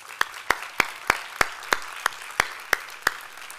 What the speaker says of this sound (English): Can you take a moment now to applaud your parents?